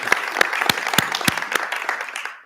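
Audience applause at a book talk introduction: a short burst of scattered clapping with distinct individual claps, moderately close, tapering off toward the end.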